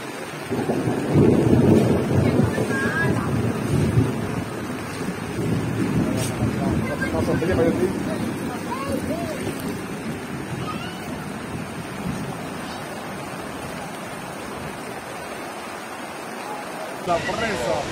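The swollen Pantufla river in Constanza rushes during heavy flooding rains. It is a dense, continuous roar of churning water, loud and steady for the whole stretch, easing slightly toward the end.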